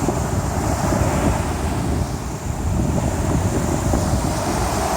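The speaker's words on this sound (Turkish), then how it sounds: "size dalganın sesini dinletebilirim diye düşünüyorum" Sea waves roar steadily and continuously on a rough sea at Bağırganlı beach, Kandıra, Turkey, mixed with strong wind buffeting the microphone.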